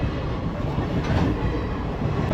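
A train passes by a rail crossing gate near Ananthagiri hills in rainy weather, a steady close rumble with faint clickety-clack of wheels throughout and no voices.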